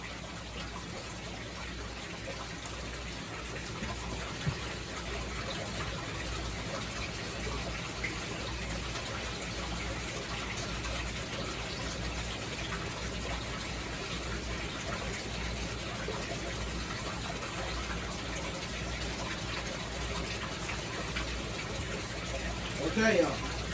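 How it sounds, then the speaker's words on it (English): Fresh tap water pumped into an aquarium tank during a water change, a steady rushing gush that runs unbroken for the whole stretch with a slight swell near the end. "we'll add the fresh water to this tank"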